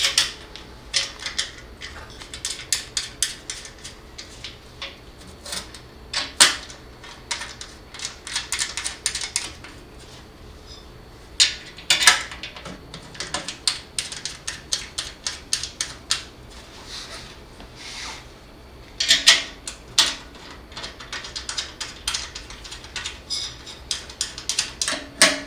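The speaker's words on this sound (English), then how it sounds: "Now we are going to put our screws back in." Screws being fitted back into a UV bulb unit, a run of small dry clicking and ratcheting ticks in irregular bursts, close and fairly quiet, with no talking.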